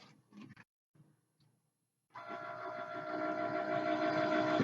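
After a few faint handling clicks and a pause, a Cricut cutting machine starts working on wood veneer with a steady whirring motor hum that builds slightly and runs to the end.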